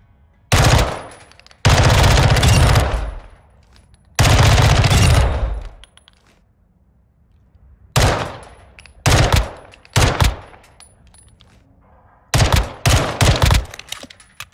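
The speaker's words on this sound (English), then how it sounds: "This is what the gun looks like. Test it in the firing range." Glock 18 fitted with a 50-round drum magazine firing full-auto in a video game firing range, loud rapid bursts of varying length separated by short silences, no talking.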